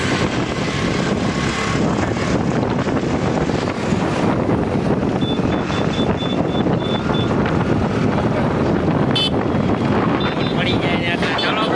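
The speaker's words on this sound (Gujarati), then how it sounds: "દોસ્તો આપણે નીકળી ગયા એક્ટિવામાં" Riding a Honda Activa scooter, with loud, steady wind buffeting the microphone throughout and the engine hum buried beneath it.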